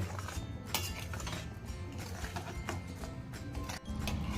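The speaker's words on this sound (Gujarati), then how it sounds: "હવે સ્લો ફ્લેમ પર આપણે તેને પાંચથી સાત મિનિટ સુધી ચલાવતા રહેવાનું છે" Mawa being stirred into sugar syrup in a pan over a low flame, a steady scraping and clinking of spoon against metal that runs continuously with no talk.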